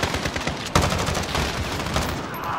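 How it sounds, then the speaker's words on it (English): Shotgun blasts and gunfire in Call of Duty: Modern Warfare, a dense, loud burst of shots with a sharp report partway through over continuous combat noise. "Oh, jeez, with a shotgun"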